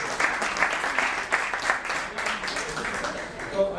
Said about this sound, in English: I think all the kids deserve a very good round of applause for the effort they've gone into.